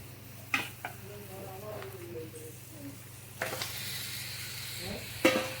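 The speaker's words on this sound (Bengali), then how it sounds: "দেখো এবার মাংসটা দিয়ে ভালো করে নাড়বো" Mutton frying in ghee with spices and a little sugar sizzles softly in a pan, broken by a few sharp scrapes and clatters of stirring, with a voice faintly audible.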